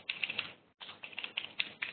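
Code being typed on a computer keyboard: quick, close clicking keystrokes in uneven bursts, with one brief pause partway through.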